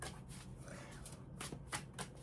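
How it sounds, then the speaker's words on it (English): Tarot cards shuffled by hand, soft papery riffles and taps in quick irregular bursts at close range, fairly quiet and brief with no voice over them. "A couple more shuffles."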